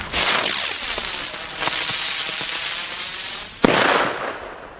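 A spinning "Biene" firecracker goes off close by, a steady whistling fizz lasting several seconds, broken by a few small pops and ending in one sharp crack.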